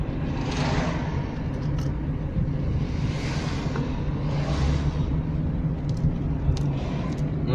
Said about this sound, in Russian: Машины едут